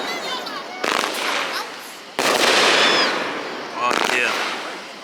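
Loud fireworks exploding at a Fourth of July party, three sharp nearby blasts each followed by crackling decay, with people reacting in the background.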